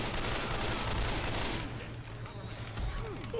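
Dense, rapid gunfire bursts from the video game Left 4 Dead 2 come loud for the first second and a half, then fall to scattered quieter shots and game noise.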